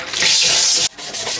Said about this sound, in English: this brush that I like using when I'm doing the dishes, it's so nice. I just scrub away.